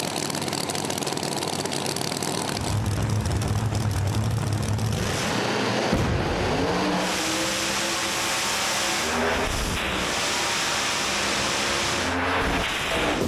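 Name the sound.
drag racing cars making a pass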